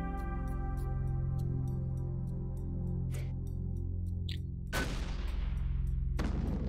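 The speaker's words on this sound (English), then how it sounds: "And this just fires a harpoon." A harpoon weapon firing in the video game Habitat, a couple of sharp launches and a heavy booming burst over a dense, loud droning engine rumble.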